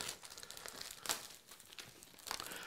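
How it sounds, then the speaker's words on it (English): Plastic wrapping crinkles and rustles up close while an EVGA GeForce GTX Titan X graphics card is unboxed, with irregular crackling bursts throughout. "somebody's really getting a kick out of this sound of this plastic crinkling and rippling"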